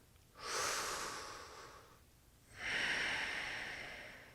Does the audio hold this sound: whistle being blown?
no